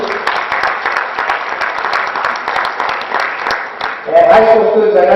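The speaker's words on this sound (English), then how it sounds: "Nice round of applause for our juniors" A school banquet crowd claps steadily for the juniors, a dense, sustained round of applause that holds for several seconds, with a voice and tonal sound rising near the end.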